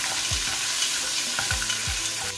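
Crab shells sizzle and fry in a pot for bisque, a steady close hiss broken by a few knocks and scrapes of stirring, with no talking.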